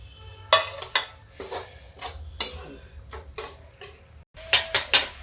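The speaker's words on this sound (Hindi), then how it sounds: "अब इसको मसालों को पका लेते हैं। अभी टमाटर भी डाल देते हैं।" Spices and tomatoes being stirred in a pan, with a spoon scraping and tapping the metal in uneven close strokes over a low background sizzle, no voices.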